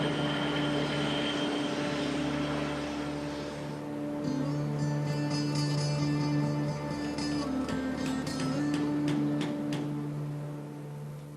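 An Antonov An-225 cargo jet's six engines run up from inside the aircraft, a loud, steady roar with sustained droning tones that shift and intensify partway through, then ease slightly at the end.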